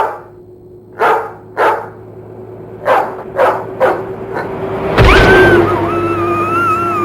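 A dog barks repeatedly in the video game You Don't Know Jack, six loud sharp barks at uneven intervals, followed by a burst of noise and warbling electronic tones.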